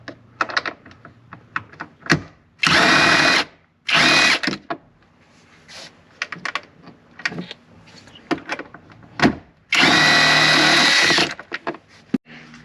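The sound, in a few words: power drill removing 10mm bolt on Toyota Highlander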